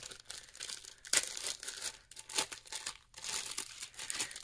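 A small plastic bag holding a craft trim sampler is handled and opened, giving close, irregular crinkling and rustling bursts, fairly quiet with no talking.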